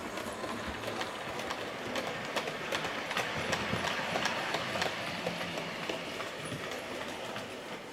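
A Kato HO-scale JNR Class D51 model steam locomotive rumbles and clatters steadily past, with rhythmic clicking of wheels over rail joints and a continuous mechanical roar throughout.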